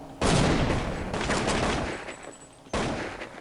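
Bursts of automatic gunfire in Counter-Strike 1.6, a long rattling volley followed after a brief pause by another sharp burst, loud and close.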